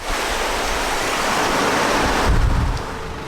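The River Wye flows past a campsite on the Wales–England border, a loud, steady, close rushing roar of water that holds without a break.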